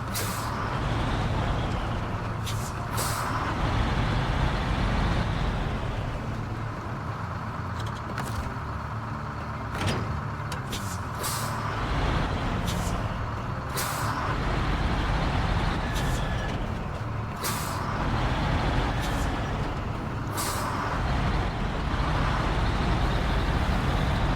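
Heavy truck engine in SnowRunner on a Michigan map, droning steadily while repeated sharp air-brake hisses burst out every few seconds during a tow to the garage.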